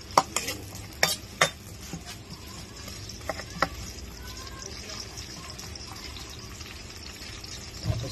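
Onions sauté in a pot for salmon-head sinigang, a low sizzle with scraping stirs and a few sharp utensil knocks, while a voice talks softly in the background.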